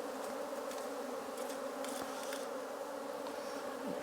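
Honey bees buzz in a steady, dense drone around an opened hive during an apiary inspection, close and constant, with a few faint scraping and tapping noises.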